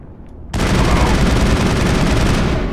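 Near silence breaks abruptly into loud, sustained gunfire from the Mass Effect video game, a dense rattling burst that continues without pause to the end.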